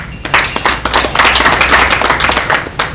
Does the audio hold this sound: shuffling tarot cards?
no